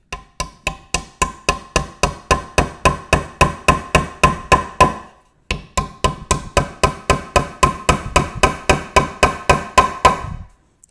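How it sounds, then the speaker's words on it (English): Rubber side of a fretting hammer tapping parts into place on a set-neck DIY guitar kit: two runs of rapid, evenly spaced sharp knocks, close and clear, separated by a brief pause. "So I just gently tap those into place and make sure that that is ready to go."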